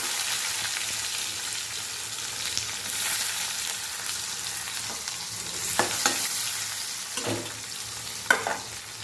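Onions, bay leaf and five-spice sizzling in hot mustard oil in a pan, a steady loud frying hiss with occasional stirring scrapes and pops throughout.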